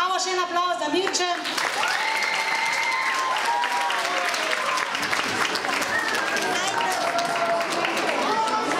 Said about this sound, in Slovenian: Bravo, še en aplavz za Mirče.